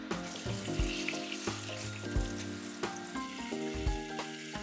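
Karaage chicken fries in shallow oil in a pan, a close crackling sizzle with repeated clinks and knocks as the pieces are turned, and no talking.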